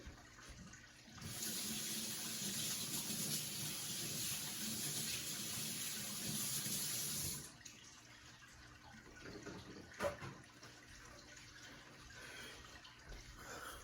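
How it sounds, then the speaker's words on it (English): Tap water runs steadily into a sink while hands are washed beneath it, a loud continuous splashing rush that stops abruptly, followed by a quieter room with a single sharp knock. "let me wash my hands"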